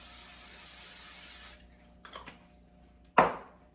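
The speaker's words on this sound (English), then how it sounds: "Make sure to spray your pan." Cooking spray hisses from an aerosol can onto a baking pan for bread dough in a short burst lasting about a second and a half, followed by faint clinks and a sharp knock against the pan.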